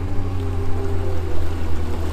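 Fishing boat outboard motor idling slowly out of hydrilla on Sam Rayburn lake, a steady close low rumbling drone with a faint even throb, heard on its own.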